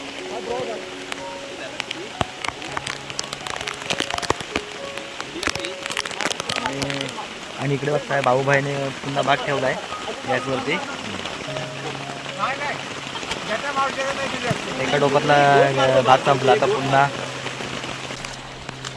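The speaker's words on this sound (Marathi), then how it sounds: "तर मंडळी पाऊस काय थांबत नाही" Heavy monsoon rain keeps falling in a rural spot as a steady wash of noise, with someone talking over it throughout and some clatter near cooking on a gas stove.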